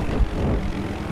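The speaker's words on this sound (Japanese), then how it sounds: "あ、 ヘリがいる。" Helicopter in the Battlefield 4 video game, a steady low rotor and engine drone filling the short moment at moderate loudness with no break.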